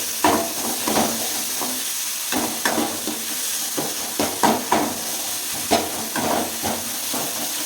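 Noodles with carrot and beans stirring and frying in a pan at home, a steady sizzle and hiss under repeated scraping stir strokes, close and fairly loud, with no talking.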